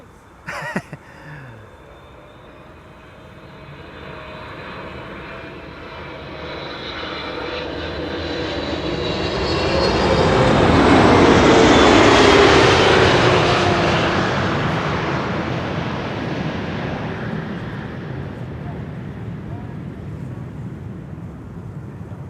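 A Boeing 747 or Airbus A380 airliner landing at Schiphol's Kaagbaan runway swells from a distant rumble to a loud, broad jet roar overhead, then slowly fades with lingering wake noise and wind buffeting, outdoors with no talking.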